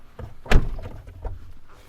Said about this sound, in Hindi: अच्छी फील आती है जैसे दरवाजा वगैरह बंद करते हैं ना